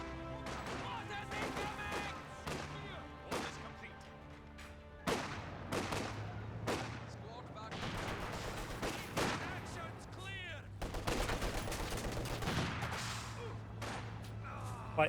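Rapid gunfire and heavy mortar blasts from Company of Heroes 2, with a 120mm mortar pounding Volksgrenadiers behind sandbags; dense, continuous bursts of shots and sharp explosions layered over a constant battle rumble, with frequent loud impacts throughout.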